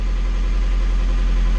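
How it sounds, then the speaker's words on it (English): A sailboat's motor idles with a steady low drone and vibration, running continuously and close through the short moment without talk. "We've got the motor going and we're surfing down waves."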